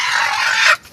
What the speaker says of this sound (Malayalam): ഇവിടെ കോഴിയാ? കോഴി, അതിന്റെ അപ്പുറത്ത് താറാവ്.